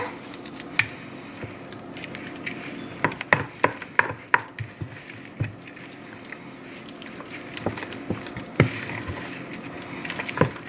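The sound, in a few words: stirring baked spaghetti with alfredo sauce and egg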